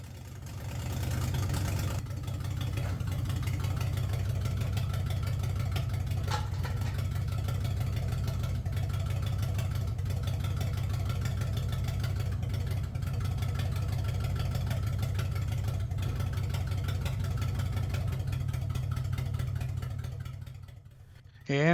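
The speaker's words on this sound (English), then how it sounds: "And she sounds, well, like the exhaust is not hooked up. But it is running" A classic Pontiac Firebird Trans Am runs with its exhaust unhooked, giving a loud, steady, raw idle rumble that holds nearly unbroken for about twenty seconds before cutting off abruptly.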